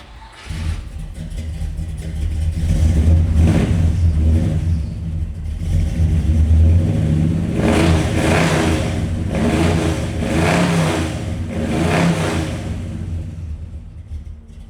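A 1966 Chevrolet Impala's 350 V8 with aluminum heads cranks, fires up and settles into a steady, rumbling idle, the close, loud exhaust note swelling in repeated surges before evening out.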